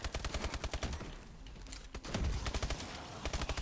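Rapid automatic gunfire from a turret in a video game's zombie mode, dense bursts of shots that run nearly continuously with a brief lull midway, loud and close.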